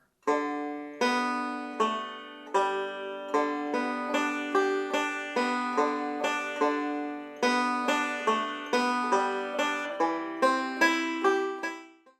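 Solo banjo plays a bright bluegrass Christmas tune in steady rolling picks, plucked notes ringing in a quick repeating pattern up close.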